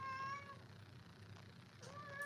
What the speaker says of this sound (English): This is my little kitty.